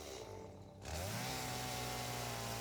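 A chainsaw in the factory-building game Satisfactory revs up from a lower buzz into a loud, steady whine that holds to the end, close and dominant.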